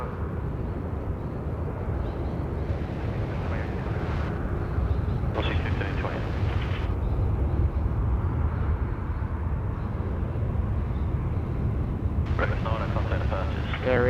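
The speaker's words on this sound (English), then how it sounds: "Air India just sliding in there on runway 34 left." A large Air India airliner landing on runway 34 left at Sydney Airport, a steady broad engine roar that fills the whole stretch, with voices talking over it.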